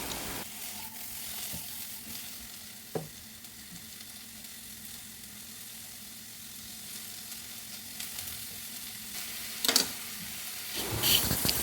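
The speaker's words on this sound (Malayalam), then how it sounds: "തക്കാളി എല്ലാം മുറിച്ചിട്ടു നന്നായിട്ടൊന്ന് ഇളക്കുക വേവട്ടെ" Chopped tomatoes cooking in a pan with onion, green chilli, ginger, curry leaves and garlic, giving a continuous soft sizzle with occasional stirring scrapes and clinks, louder toward the end.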